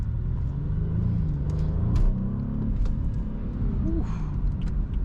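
A BMW F30 328i in sport mode accelerates hard, its engine droning and rising in pitch from inside the cabin, with a steady road rumble underneath and no talk.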